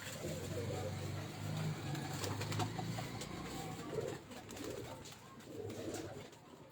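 A pet pigeon, a prized bird kept in a loft, coos in soft low repeated phrases against steady background noise, with people talking nearby.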